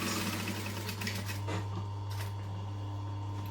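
A sewing machine stitches a zipper onto fabric with a continuous low mechanical hum and faint rattling. The sound is quiet and steady, with a couple of brief clicks near the middle and no talking.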